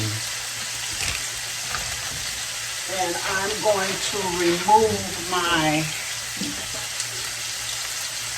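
Frozen whole okra steams in a shallow layer of water and butter, giving a steady soft hiss and sizzle throughout, with a voice talking over it midway.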